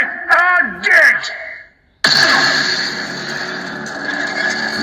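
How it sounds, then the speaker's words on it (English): A Sith lightsaber from the Eternal Emperor ProffieOS soundfont, based on The Rise of Skywalker, ignites with an abrupt loud burst after a brief silence and then settles into a sustained buzzing hum; a sweeping, voice-like passage comes first. "It's a great ignition sound."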